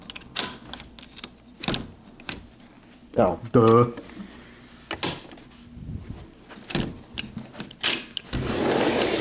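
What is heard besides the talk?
hotel balcony door being opened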